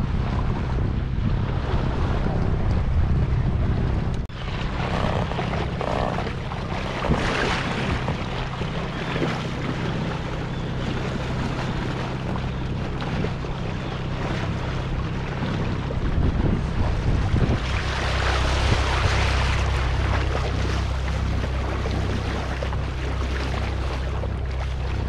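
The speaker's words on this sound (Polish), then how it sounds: "Na razie płyniemy na motorze, ale żagle postawimy za chwileczkę." A sailboat motors out of a marina under engine power, a steady low engine drone blended with strong wind buffeting and water wash, loud and continuous with no talking.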